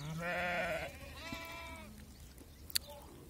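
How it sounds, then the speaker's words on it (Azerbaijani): Qaradolaq sheep with young lambs of two to three weeks bleat close by, one long wavering call followed by a second, then a sharp knock near the end against faint farmyard background. "Quzuları da görsünüz, 15-20 günlükdə yanında quzular var."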